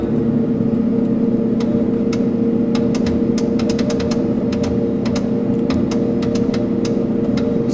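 A loud, steady engine drone with a strong low hum fills a FNPT II flight trainer as the throttle goes to full for takeoff, while sharp repeated clicks and ticks sound over it throughout.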